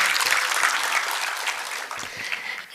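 An audience at a public meeting claps for MLA Prashant Thakur in dense, steady applause that fades slightly toward the end.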